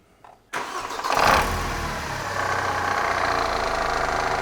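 After a moment of near silence, a car engine cranks and catches with a roar, then settles into a steady, close idle, run with an engine flush additive in the oil.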